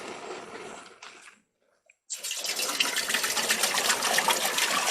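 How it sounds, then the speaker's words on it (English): Water from a tap runs into a coffee pot outdoors at a camp, gushing steadily and close by. It stops briefly for a near-silent pause, then resumes more loudly as the pot fills. "We're going to fill our coffee pot with water."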